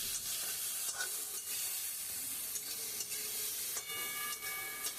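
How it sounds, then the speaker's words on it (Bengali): Chopped banana stem and shrimp stirred in a pan give a steady soft sizzle with faint scraping strokes throughout, low and continuous with no talking. "এবার থোড়টা আর ওই চিংড়ি মাছ একসাথে নেড়ে চেড়ে একটু নুন হলুদ দেবো"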